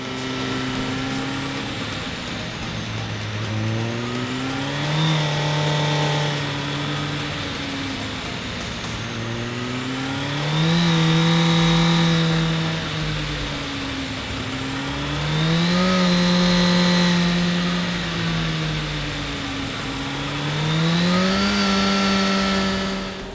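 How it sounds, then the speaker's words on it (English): A motorcycle engine on a dyno-tuning run revs up and down repeatedly as the throttle is snapped open and rolled off, loud and close, with rising and falling pitch in a steady cycle. "open the throttle quickly, then roll off the throttle again"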